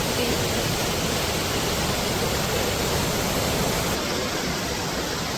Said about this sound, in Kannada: ಗಡಿ ಚಾಮುಂಡೇಶ್ವರಿ ಟೆಂಪಲ್ ಪಕ್ಕನೇ ಇದೆ ಇದು ಫಾಲ್ಸ್.